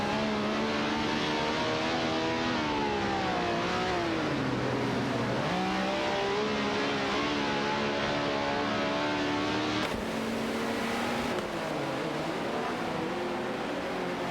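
Race car engines from an AI racing video game drone steadily and loudly throughout, their pitch sweeping up and down with shifts and overlapping cars, with no talk.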